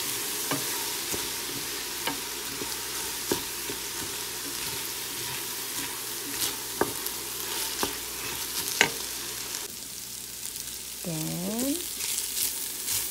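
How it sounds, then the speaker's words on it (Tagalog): Rice porridge stirred in a pot after fish sauce is added, with repeated scraping clicks of the spoon against the pot over a steady sizzle, then a brief rush of running tap water near the end. "Then stir together until it's mixed."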